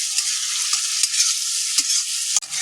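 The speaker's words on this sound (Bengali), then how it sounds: "আলুগুলোর সাথে সমস্ত মশলার সাথে ভালো মতো করে কষিয়ে নেব" Fried potatoes sautéed with spices in a pan over medium heat, a steady close sizzle punctuated by soft spatula scrapes and a sharp knock near the end.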